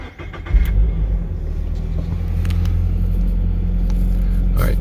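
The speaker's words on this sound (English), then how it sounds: "I'm going to start the car up." A 2023 Toyota GR86 Premium engine cranks and catches, then settles into a loud, steady low idle close to the car.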